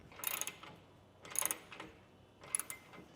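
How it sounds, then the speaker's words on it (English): 1/2-inch socket ratchet tightening bolts while fitting a Pace Edwards retractable tonneau cover on a truck, three short bursts of rapid clicking ratcheting, close and fairly quiet with pauses between. "I can start tightening it down with my 1/2-inch socket"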